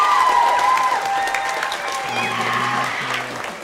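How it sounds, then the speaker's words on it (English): Applause and cheering from a school concert crowd for graduating students, steady and fairly loud, with some whistling and a sustained tone coming in partway through. "actually let's give our grads one more big round of applause."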